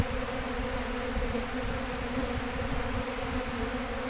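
Honey bees swarm around a beehive, a dense steady buzzing drone that stays close and constant with no talking.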